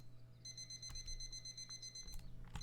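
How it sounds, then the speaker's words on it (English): A phone alarm chirps in a quiet room, steady high electronic tones with a few short sharp beeps near the end, fairly faint and with no one talking. "completely ignoring the chirps that come from my phone"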